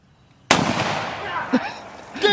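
A single sharp gunshot fired toward a hillside outdoors, loud and close, with a ringing decay and faint voices afterward.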